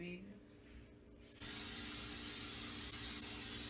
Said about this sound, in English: And I just sprayed some Pam. A lot. Some olive oil spray.